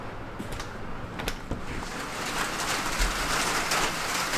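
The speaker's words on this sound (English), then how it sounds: "It is still raining." Steady rain drums on a camping shelter during a long overnight storm, a dense continuous hiss with scattered sharper drop taps, fairly close and unbroken throughout.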